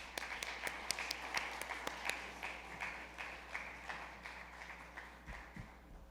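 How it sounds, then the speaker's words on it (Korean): A church congregation at an opening worship service applauds to welcome a missionary speaker, a steady patter of many hands clapping at moderate distance in a reverberant hall, tapering slightly toward the end. "오늘 선교사님 나오실 때 우리 뜨거운 박수로"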